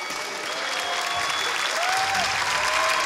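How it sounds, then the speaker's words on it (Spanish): Strong studio-audience applause on a Spanish-language television competition show, a loud, continuous roar of clapping with faint whistles or tones riding over it. "Un fuerte aplauso para ella."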